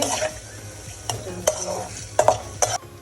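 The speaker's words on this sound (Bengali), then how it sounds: "পেঁয়াজটা ভাজা ভাজা হয়ে গেছে" Onions fry in a pan for egg curry while a spoon stirs them, a steady sizzle punctuated by several sharp scraping and clinking strokes against the pan, close and clear with no voices.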